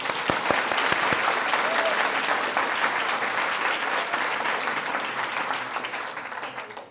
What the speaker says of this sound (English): So please indulge me in one more round of applause for the Friends.